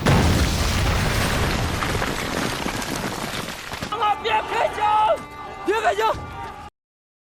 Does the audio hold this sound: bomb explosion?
yes